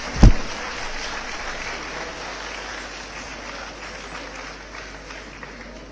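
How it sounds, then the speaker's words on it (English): An audience at an annual event in a convention hall breaks into applause, a sharp loud start that settles into steady, sustained clapping. "please welcome Varshini with a big round of applause"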